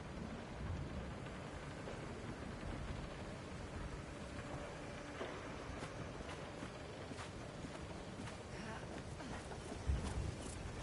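A video game cutscene storm, likely the sandstorm: steady rushing wind-and-rain-like roar at low level throughout, with faint crackles and a brief thump near the end, and no voices.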